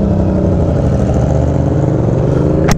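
A Yamaha R7 motorcycle engine running loud and close, a steady rumbling idle with a rising rev, ending in a sharp click.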